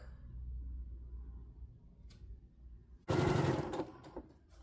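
A sewing machine sews a half-inch seam on a fabric bag, starting with a fast loud rattling burst after a quieter low rumble, close by with no talking.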